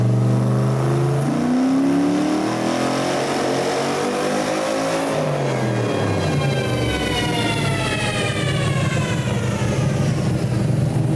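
A 590hp LS engine in a bodiless track car pulls hard at wide open throttle from 3,500 to 6,500 rpm, pitch climbing steadily, then a gear change and another rising wail; loud and continuous.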